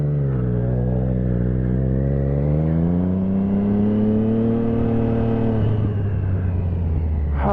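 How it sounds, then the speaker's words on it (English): Triumph Trident 660 motorcycle fitted with a Scorpion exhaust, revving on a dyno after a tune: a loud, close, sustained engine note climbing steadily in pitch, then dropping off abruptly near the end. "It didn't sound this good before without the Scorpion exhaust, and now it just sings."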